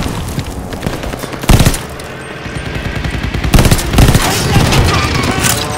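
Rapid machine-gun bursts and gunfire from the video game Call of Duty Vanguard, loud and close, with heavy shots hitting hard around the second and fourth seconds, and a voice briefly heard under the shooting.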